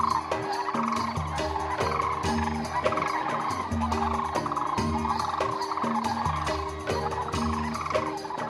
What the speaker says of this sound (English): They challenge each other, shout and peck.